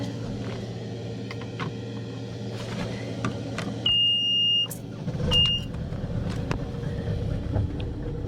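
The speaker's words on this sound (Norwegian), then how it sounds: "Men først må vi starte motoren" A boat engine starts up: a brief whining crank, then the motor catches and settles into a steady low rumble, close and moderately loud, with some wind noise and a faint high whine.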